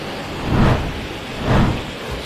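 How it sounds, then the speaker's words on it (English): Heavy rain falls during a winter storm, after earlier snow has turned to rain. It makes a loud, continuous hiss that swells twice in brief gusting surges. "You know, Sherry and Siobhan, the snow from earlier has turned into rain"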